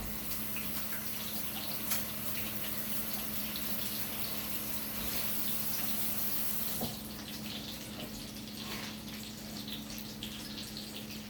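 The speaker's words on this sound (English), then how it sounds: "I'm going to rinse my hands again" Water runs steadily from a kitchen tap as hands are rinsed during chicken cutlet prep, a soft continuous hiss with a faint hum and a couple of small knocks, no talking.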